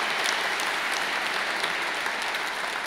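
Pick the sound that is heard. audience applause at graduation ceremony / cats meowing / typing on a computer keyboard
audience applause at graduation ceremony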